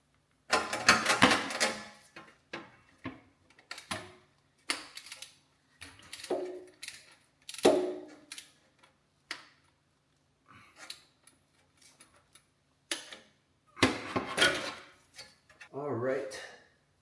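The transmission fill plug on a 2014 Toyota FJ Cruiser is tightened, with intermittent bursts of quick ratcheting clicks and metallic clatter separated by quiet gaps.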